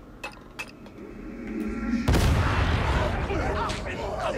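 Stun grenade detonating in the 2022 game Warhammer 40,000: Darktide, a sudden loud boom at the midpoint that rolls into a dense, sustained roar after a few small thumps and a building hum.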